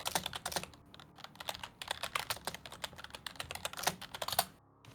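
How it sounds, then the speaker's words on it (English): Rapid typing on a computer keyboard in a game lobby, a dense run of close, crisp key clicks in uneven bursts that stops abruptly near the end, with no talking. "While Lloyd is typing."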